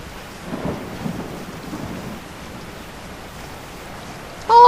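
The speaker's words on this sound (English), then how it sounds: "Is the rain moving your hand that much, Leon?" Rain and thunder from the video game Resident Evil 4 form a steady, hissing downpour with a low rumble near the start, ending in a sudden louder burst.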